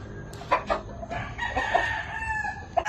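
Chickens cluck in short, irregular bursts close by while a rooster crows in a drawn-out call, all fairly faint over a quiet background.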